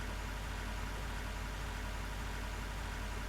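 An engine idling in the video game Minecraft, a constant, even droning hum with no change in pitch or level across a short stretch, with no talking.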